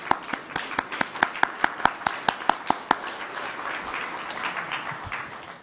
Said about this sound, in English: just give them a hand of applause